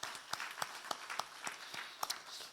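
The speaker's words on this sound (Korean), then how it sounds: "아이들 부모님께도 박수 한번 쳐드리겠습니다" Applause from a church congregation at a Sunday morning service: a few distinct, spaced claps ring out over a soft, steady patter of clapping that carries through the whole moment.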